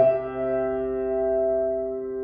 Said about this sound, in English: if I go over to the piano and play it, it sounds something like this